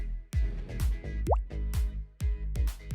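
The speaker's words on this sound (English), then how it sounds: "We'll put about 1 cup of white glue, and then 3 big tablespoons of shaving foam." Shaving foam is spooned into a cup of white glue for glow-in-the-dark slime, giving a run of wet, sticky plops and gloopy drops in an irregular rhythm, close and fairly loud.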